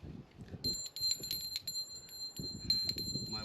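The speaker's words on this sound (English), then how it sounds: "It's a Gremlin bell, if you've wondered, and it's made out of 50 caliber shotgun, or not shotgun, a 50 caliber ammunition shell." A small Gremlin bell made from a 50 caliber ammunition shell, hanging on a 1966 Harley-Davidson FLH Electra Glide, rings with a sustained high metallic tone and repeated light jingles over low handling noise.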